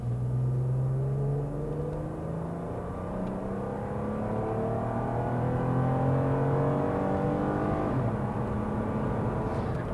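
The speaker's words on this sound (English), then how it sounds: "Like, it really gets up to speed, and you don't feel the speed." A 2000s Toyota RAV4 V6 Sport accelerates hard, its engine note rising in pitch through the gears with a steady cabin rumble, heard from inside at moderate loudness with no talking.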